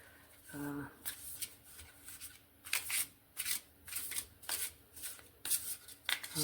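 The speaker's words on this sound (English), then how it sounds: "you surely want to hear the sound when it shuffles" Tarot cards are shuffled repeatedly in crisp, rhythmic riffles, close up, with a short voice at the start.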